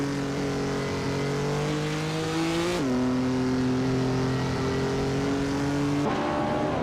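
A 1970 Ford Mustang Boss race car in a racing video game holds a loud, steady engine drone at high revs, its pitch climbing slowly and then jumping with each gear change, heard alone and close.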